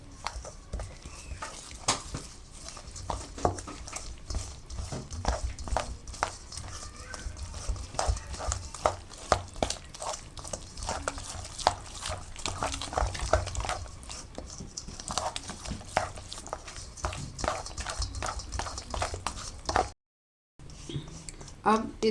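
A spoon mixes fish masala with added food colouring in a bowl, making a quiet, steady run of repeated scraping and clicking strokes that continues with a brief gap near the end.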